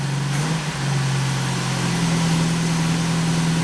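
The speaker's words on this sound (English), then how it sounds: "Is that idling?" A Saab Sonett car engine idling steadily with a low, constant hum and slight vibration, close and fairly loud, with no voices.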